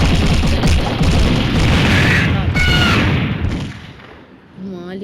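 Loud, continuous booming blasts and gunfire-like bursts fill a chaotic battle in the mobile shooter game Mini Militia, with bomb explosions rumbling heavily before fading, then a brief tonal game sound at the end.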